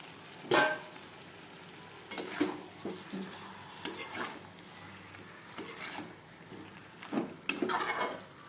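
Potatoes being stirred into meat frying in a pot for a home-cooked Sunday meal: scraping spoon strokes and clatter against the metal pot in uneven bursts over a low sizzle, close and fairly quiet.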